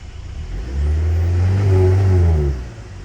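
Cadillac CT4-V engine blipped in neutral, a loud, close rev that climbs from idle, holds high for about two seconds and drops back, with no talk over it.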